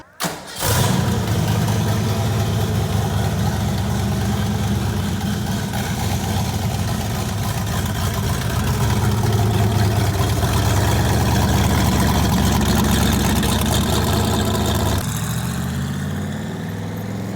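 A 5.0 V8 engine swapped into a Toyota Corolla starts up and settles into a loud, steady idle, its deep throbbing rumble holding until it eases off near the end.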